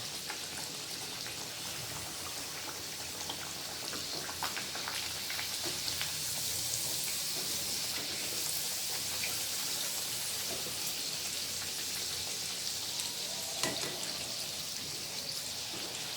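Banana puri fry in hot oil, a dense, continuous bubbling crackle that holds steady throughout at close range, with a few sharper pops near the end.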